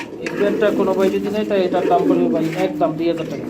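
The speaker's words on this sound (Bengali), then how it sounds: "রেড চেকার কালারের মধ্যে রেসার কবুতর" Racing pigeons coo softly in low, rolling calls while a person talks over them nearby.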